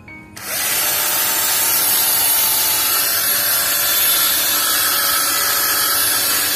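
A power drill whirs loudly and steadily, grinding into hard wood with a harsh, continuous buzzing that holds for several seconds.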